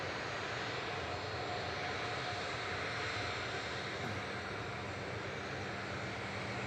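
A Jet2 airliner, flight LS891 to Lanzarote, departs Manchester Airport, heard as a faint, distant, steady engine rumble with a thin whine, unchanging throughout and without talk.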